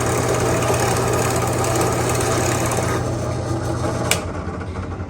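A drill press motor hums steadily and loudly, spinning continuously with a slight drop in pitch near the end and a brief sharp click.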